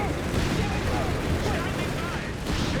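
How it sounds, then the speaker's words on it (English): A Company of Heroes 3 battle with constant gunfire and heavy thudding mortar-like blasts, with a commentator talking over the din. "Machine gun there cleared up and mortar fire."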